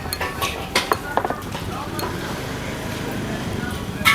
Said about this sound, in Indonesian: Aduk lagi men.